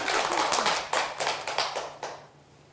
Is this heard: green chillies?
no